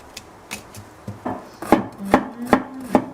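A knife chops through bitter melon (yeoju) on a cutting board in a series of about seven crisp, close strikes, sparse at first and then settling into a steady rhythm.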